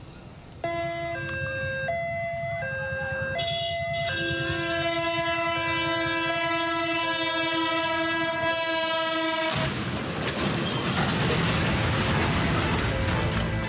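A passenger train horn blares in long stepped harmonic blasts, then a loud broadband crash and rumble as it hits a truck, continuing as noisy debris and engine roar.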